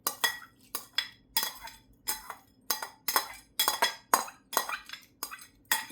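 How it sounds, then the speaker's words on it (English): Dry lentils spooned into a cooking pot for home-made lentil soup, a quick series of about a dozen bright metallic clinks and rattles, close and crisp, with no talking. "Put your lentils in there."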